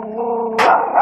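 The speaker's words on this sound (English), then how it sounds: "And you can't see this little dog, but it almost ripped my head off." A small dog barks close by, a harmonic whine-like tone breaking into a sharp loud bark burst, then a second yip near the end.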